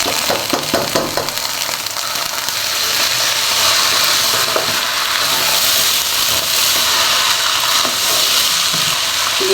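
Bay leaf and washed rice fry for pulao in a pan with a loud, dense, continuous sizzle and hiss throughout, plus a few faint scrapes of stirring.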